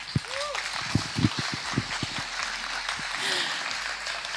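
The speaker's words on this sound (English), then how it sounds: "Can I just have a round of applause for them, please?" Scattered, uneven clapping from an audience welcoming four panel guests on stage, with distinct individual claps early on and a faint voice partway through.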